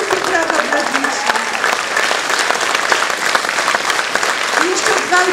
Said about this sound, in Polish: Wielkie brawa dla dzieci.